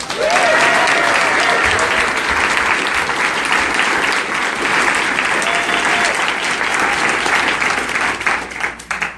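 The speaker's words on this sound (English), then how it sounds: "I want you to give a big round of applause for the people who attend the Tuesday rally" Big round of applause from the audience at a town hall meeting, loud sustained clapping throughout with a few scattered vocal sounds, tapering slightly near the end.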